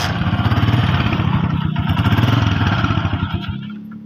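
A 2019-model bike with a slow-idle fault starts up and idles, its engine thumping in a fast, even putter nearby before it stumbles and cuts out at the end.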